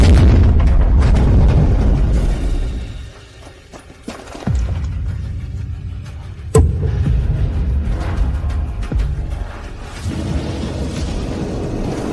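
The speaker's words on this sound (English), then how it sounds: "Activate the orbital ion cannon." A massive, sustained rumbling blast from an orbital ion cannon, loud and continuous, with a deep roar that dips briefly before a sharp boom and renewed heavy rumbling.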